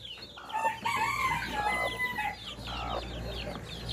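Hens cluck and a rooster crows amid a busy farmyard chorus of birds, including a mother hen with newly hatched chicks, with steady background noise throughout.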